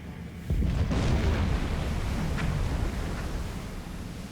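A deep, rumbling explosion booms in the Silent Hunter 4 submarine game, a loud sustained roar rolling on for several seconds with no talk over it.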